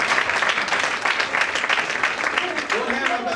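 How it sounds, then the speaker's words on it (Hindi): An audience claps hard and loudly at a gathering where a preacher exhorts husbands and wives, a dense continuous wash of applause with a voice faintly underneath. "समझ आ रहा तो जोरदार ताली बजा दीजिए"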